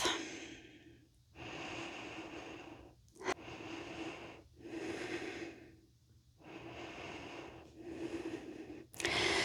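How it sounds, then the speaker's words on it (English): Deep, slow breathing during a lower-body strength workout, with long inhales and exhales alternating in an even rhythm, close and fairly quiet, with no talking. "Deepen your breath."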